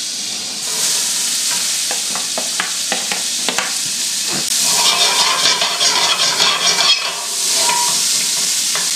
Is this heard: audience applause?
no